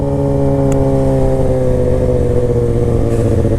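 A motorcycle engine hums steadily and close up while the bike corners at about 25 mph. The smooth, even tone keeps a constant pitch, with the drone of wind and road underneath and no talking.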